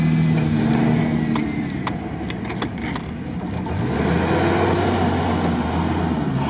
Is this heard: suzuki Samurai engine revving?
yes